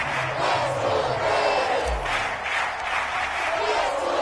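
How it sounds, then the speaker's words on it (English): A crowd at an American football game claps and cheers in a steady, loud roar that continues through the whole moment. "That's why you hear that clapping on the sidelines, right?"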